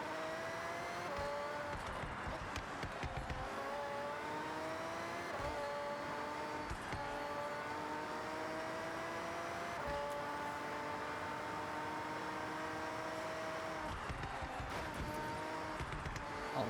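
Race car engine in the Forza Horizon 6 racing game, a steady high revving drone that climbs and drops with repeated gear shifts and accelerations, close and continuous across the whole stretch, with no talking.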